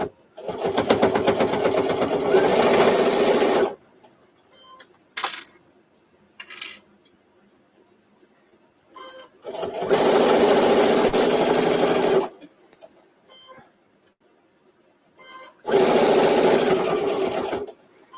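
Sewing machine stitching fabric for a microwave potato bag runs in three loud, steady bursts of rapid whirring, with short clicks and handling noises in the pauses between runs.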